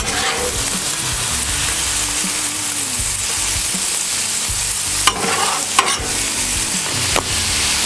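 Thin-sliced cheesesteak beef sizzles steadily on a Blackstone griddle, a loud continuous hiss and crackle with a few sharp scraping clicks of a spatula near the end.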